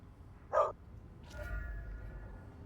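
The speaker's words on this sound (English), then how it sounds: "And I do believe that is the sound of dogs." In the video game Vampire: The Masquerade Bloodlines 2, a dog gives one sharp bark, followed by a second, more distant bark or yelp over low ambient rumble.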